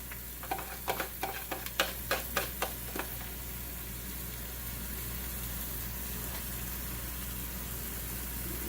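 A soft, steady sizzle of an egg frying in a hot pan hisses throughout, with a series of light clicking taps early on before the frying continues alone.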